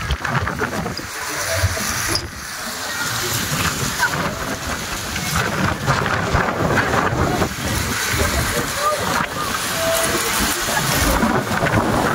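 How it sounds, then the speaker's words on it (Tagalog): Strong wind on the sundeck of the cruise ship Spectrum of the Seas buffets the microphone with a loud, continuous rumbling roar, while voices talk faintly underneath. "Lakas ang hangin."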